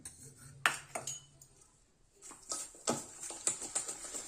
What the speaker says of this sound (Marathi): सर्वात आधी आपल्याला तूप आणि गुळ पावडर जी आहे ती छान अशी फेटून घ्यायची आहे.